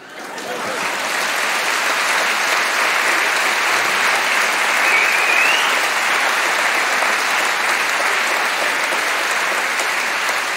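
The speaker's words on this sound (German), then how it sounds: "An der Stelle wird sonst immer geklatscht." Comedy show audience clapping, a loud sustained wave of applause that builds within the first second and holds steady and dense for the rest of the stretch.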